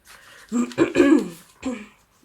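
A person coughs and clears their throat several times in quick succession, close and fairly loud, with a short pause before a final cough.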